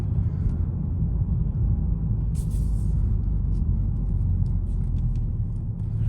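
A 2022 Hyundai Sonata N Line with a 2.5 turbo engine drives along at night, its steady low rumble and road noise continuous throughout, with a faint higher whoosh briefly rising midway.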